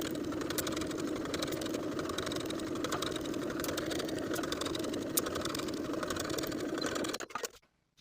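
A sewing machine runs steadily, stitching the back bodice seam of a ruffled-sleeve top with a steady fast whirring hum that holds for several seconds, then stops abruptly near the end.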